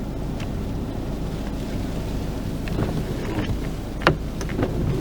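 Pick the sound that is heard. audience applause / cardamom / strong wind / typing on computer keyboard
strong wind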